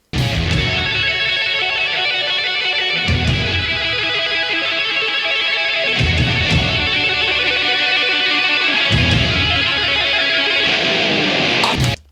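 Electric guitar solo, dense and distorted with rapid tapped runs, loud and continuous with recurring rhythmic accents over backing.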